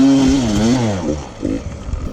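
A Beta 300RR enduro motorcycle on a hard rock enduro ride, its two-stroke engine revving up and dropping in a rising, falling whine, then sputtering in short bursts.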